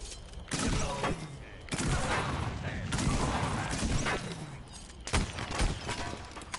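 Weapon fire and explosions in Plants vs. Zombies: Garden Warfare 2, a rapid string of sharp bursts and booms with several loud cracks, fairly quiet overall with speech mixed in.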